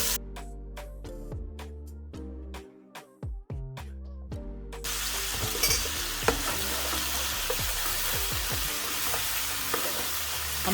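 Steak for spicy pepper steak sizzles in a pan as a soy sauce mixture is stirred in, with sharp clinks and scrapes of a utensil against the pan at first, then a steady loud frying hiss with occasional knocks.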